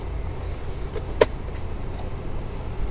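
A car in low gear creeps along an icy mountain road on the way to Khanspur, its engine a quiet, steady low hum inside the cabin with a single short knock partway through.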